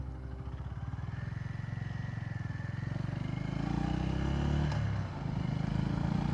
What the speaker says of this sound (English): you're riding with me on the GB350S